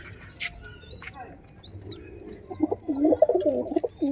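Pigeons coo in a loft, soft rolling throaty calls growing denser toward the end, with faint chirps and rustling from other birds around them.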